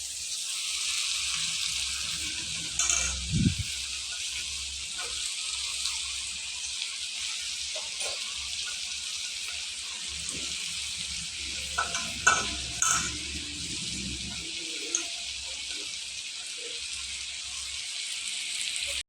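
Chapathi noodles are stir-fried with masala in a pan, giving a continuous sizzling hiss broken by scraping stirs and a few louder clanks of the utensil against the pan, with no talking.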